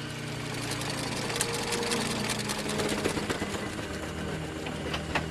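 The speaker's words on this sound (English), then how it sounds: "the traction engine's ability to climb hills" Steam traction engine labouring uphill on a road, a steady mechanical chugging and clatter with a low rumbling drone, continuous and fairly close, no talk.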